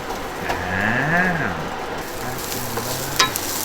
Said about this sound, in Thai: กูแค่ผัดหัวหอมเองมันหอมไง